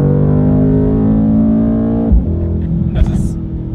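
Mercedes-Benz AMG C 63 S engine running close by with a deep, steady, harmonic rumble that shifts character about halfway through, followed by a few brief sharper sounds.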